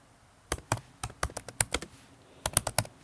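Fingers type a file name on a computer keyboard: about a dozen crisp, close keystrokes in two quick bursts separated by a short pause, with no talking.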